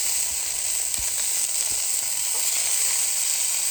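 Sausages sizzling on a Callow four-burner gas plancha, a steady close hiss of frying fat with a few soft clicks and light scrapes, no voices.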